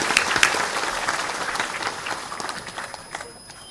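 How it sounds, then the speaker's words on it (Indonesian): An audience at an Islamic lecture claps loudly, a dense burst of applause that gradually thins and fades toward the end. "Tepuk tangan untuk semua pejuang kita"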